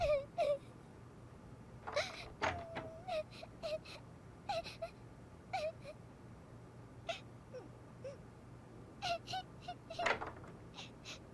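Wailing, sobbing cries from a figure heard in a dubbed Turkish film, rising in several separate bursts over a quiet background, moderately close with faint tonal sounds between.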